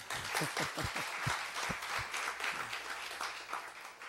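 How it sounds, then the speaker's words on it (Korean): A church congregation at a Lunar New Year healing revival claps together, brisk and continuous, with a few low voices and cheers rising briefly within the sustained applause. "이런 데 박수 한번 쳐야지, 그지?"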